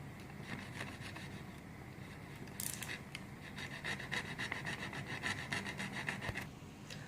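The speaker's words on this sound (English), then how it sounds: "we'll use our cutter and then cut the ball here" A cutter slicing a plastic bottle in half, producing quiet scraping and rasping close up, growing busier with crackling plastic halfway through.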